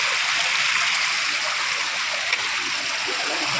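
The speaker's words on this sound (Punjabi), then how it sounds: "ਦਰਖਤ ਦੀਆਂ ਜੜਾਂ ਚੋਂ ਬਾਈ ਪਾਣੀ ਨਿਕਲਦਾ ਦੇਖੋ" Steady rushing water flows continuously from the roots of a 500-year-old tree with a bright, splashing hiss, close by and uninterrupted.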